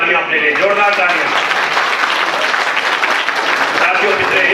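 Loud applause from an audience at an in-person motivational gathering runs continuously for a few seconds, with a voice speaking over the clapping throughout.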